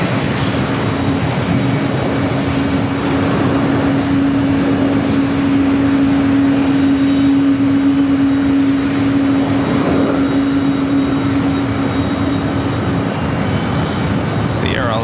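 A United Boeing 777-200 airliner bound for Honolulu rumbles at LAX as a steady, loud broadband roar with a sustained hum, continuous throughout.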